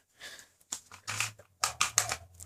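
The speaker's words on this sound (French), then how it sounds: "Et là, vous prenez du scotch." Several short ripping bursts of adhesive tape being pulled off a roll, close and crisp, with quiet pauses between pulls.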